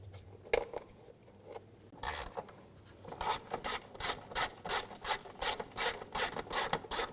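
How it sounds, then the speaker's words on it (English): Ratchet with a T30 socket backing out airbox screws on a 2006-2010 BMW 550i 4.8L V8, a quick run of rapid clicking pawl strokes, close and fairly loud, after a couple of scattered taps and rubs. "Using a T30 socket, take these bolts out, or screws."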